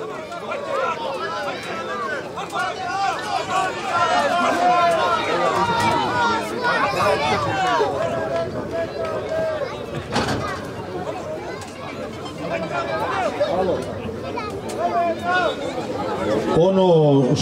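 Fans at a traditional wrestling-style fighting event at a village gathering shout and cheer as a loud, continuous crowd roar, with a commentator talking over the noise.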